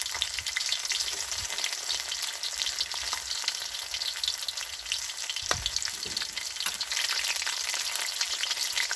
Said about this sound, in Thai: แล้วสิเจียวหอมแล้วก็กระเทียมแล้วก็เจียวใบมะกรูด